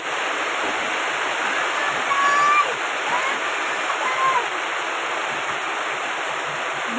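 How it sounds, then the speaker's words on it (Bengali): Black cumin, green chilli and onion sizzle and fry in hot oil with a steady, dense crackling hiss throughout, close and fairly loud, with a few faint squeaks over it. "এটা দিয়ে ভালো করে এটাকে ভাজবো, অনেকটাই টাইম ধরেই ভাজতে হবে এটাকে"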